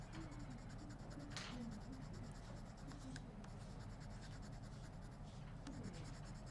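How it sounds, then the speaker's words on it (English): A colored pencil burnishes the surface of drawing paper, giving a soft continuous scratching rub with occasional sharper strokes, close and quiet, with no voice over it. "any of the white of the paper should be going away as you burnish"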